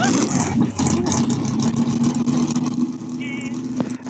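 A dragster's engine fires up and revs loudly close by, a strong steady drone with rising and falling throttle surges throughout.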